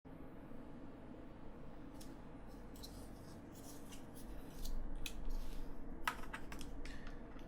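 Clicky keystrokes on a Filco Majestouch 2 mechanical keyboard with Cherry MX Blue switches, coming in irregular bursts of close, sharp taps over a low steady room hum, growing busier toward the end.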